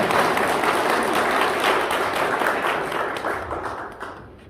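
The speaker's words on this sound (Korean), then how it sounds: "박수 한번 주시고" An award ceremony crowd applauds in a steady, dense burst of clapping that holds strong, then gradually thins and fades toward the end.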